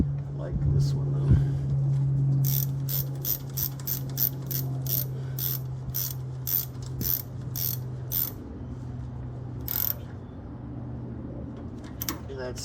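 Close ratchet wrench clicking as it tightens bolts on a 2004 Dodge Ram front suspension during ball joint and tie rod work, a fast run of sharp clicks then scattered single clicks, with someone talking over it.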